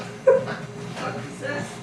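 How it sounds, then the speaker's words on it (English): Dogs bark and whimper indoors, with one sharp bark near the start followed by a few softer, muffled yips and whines over a quiet background. "Until these dogs decided to rudely interrupt me."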